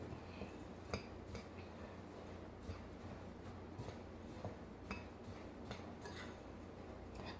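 Dry cookie ingredients with salt being stirred together in a bowl for oatmeal raisin walnut cookies, giving faint, steady scraping and soft clinks of utensil against bowl, with a few sharper taps, close by and without talk.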